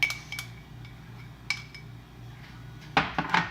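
Pandan yeast mixture is stirred in a bowl: a few light clinks and utensil knocks against the bowl, then a louder run of clattering scrapes toward the end, with no voices.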